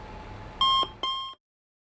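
Two loud electronic censor bleeps, about a quarter-second and a third of a second long, cut in over background chatter in a Farming Simulator 22 multiplayer session, followed by silence.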